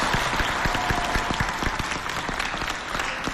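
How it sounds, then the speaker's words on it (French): An audience at a stage show breaks into steady, dense applause, many hands clapping together in a lively burst for a few seconds. "Très bien. Applaudissez pour..."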